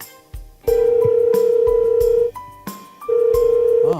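Telephone ringback tone on an outgoing call, steady beeping tones that cut off and resume in repeated bursts, close and loud, with a few thumps between them.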